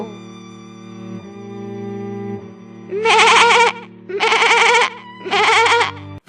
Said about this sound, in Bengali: কি ব্যাপার টুকি, আজ আমাদের ছাগল এত চিৎকার চেঁচামেচি করছে কেন